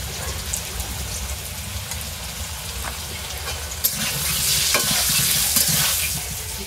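Potatoes frying in a pan with salt and turmeric, a steady broad sizzle with occasional stirring scrapes and a louder crackling swell toward the end, no talk.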